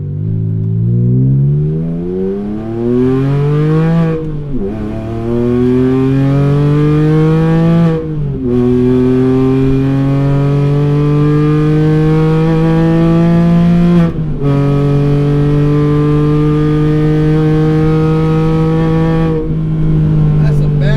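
A 400 WHP naturally aspirated 4.2L wide-body Porsche Cayman with its exhaust valve open revs loudly and repeatedly, each sweep climbing in pitch before dropping off, with short pauses between the four or five pulls.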